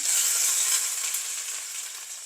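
Curry leaves, green chillies and sliced onion frying in hot oil in a pan, a bright, steady close sizzle that fades slightly over a couple of seconds.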